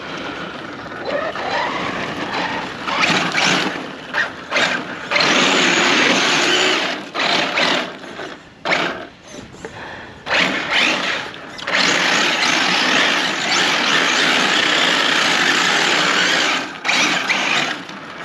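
A King Motors Citroen 1/7 scale RC rally car runs close by, its motor whining and revving in loud sustained bursts with brief drops between pulls.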